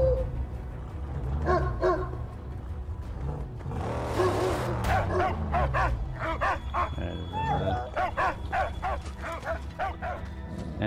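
A dog barks in the Mad Max video game, a run of repeated barks and whimpers mixed with game sounds and a car engine in the background.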